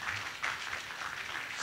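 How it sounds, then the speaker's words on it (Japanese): Audience clapping at a Japanese political talk event in a Nagasaki hall, a soft, distant, even patter of applause from a seated crowd for under two seconds. "そこで拍手してもらうっていうのはいいことなのか"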